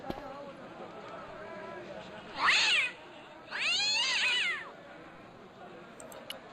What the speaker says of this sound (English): I pet the cat.